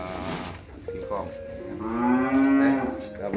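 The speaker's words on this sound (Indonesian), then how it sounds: "inilah sapi-sapi jenisan yang kita kasih" Simmental and Limousin beef cattle low inside a barn at feeding time. Two or three deep, drawn-out moos rise close by and fairly loud over a low shed murmur.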